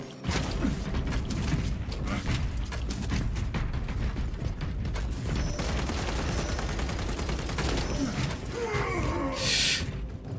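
Rapid bolt pistol fire in Space Marine 2 amid constant loud combat noise, with mechanical clacks and rattling shots layered through the whole stretch.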